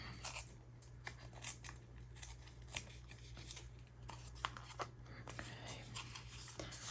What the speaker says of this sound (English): Tear it up here though.